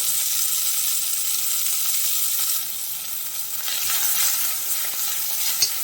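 A tempering for lemon rice fries in hot oil as coriander leaves cook in, a continuous bright hissing sizzle with a slight dip and swell midway.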